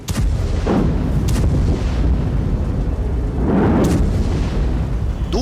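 Bombs from an Israeli air strike in Gaza explode in heavy booms heard from a distance, with several deep blasts and rolling rumbles over a constant loud roar.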